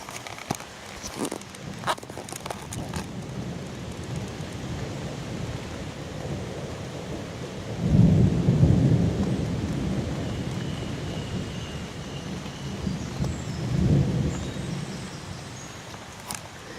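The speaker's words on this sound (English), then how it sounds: "Few rumbles of thunder, but what can you do?" Low thunder rumbles roll in twice amid steady rainfall at a wild campsite, the first swelling loud and long, the second shorter and softer, with a few crackles early on.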